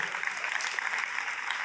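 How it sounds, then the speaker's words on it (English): An audience claps at a college signing gathering for a student's grandmother, steady close applause with no voices over it. "big round of applause for her"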